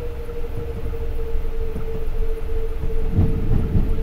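A Metropolitan Line train in Train Simulator 2018 rumbles into Harrow on the Hill station, a steady low engine drone with a constant hum and some heavier clunks near the end.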